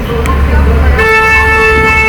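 A loud, sustained car horn blares nearby over heavy engine and road rumble, following a brief earlier toot.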